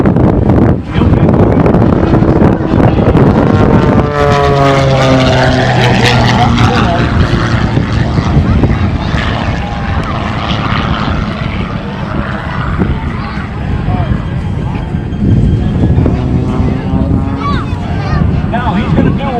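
A Thunderbirds jet roaring through a reverse gravity turnaround at the Fort Wayne airshow, a loud sustained engine rush with a falling pitch sweep as it passes, heavy wind noise across the microphone, a commentator talking throughout.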